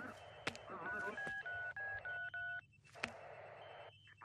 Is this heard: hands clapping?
no